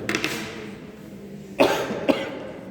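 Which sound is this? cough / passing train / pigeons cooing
cough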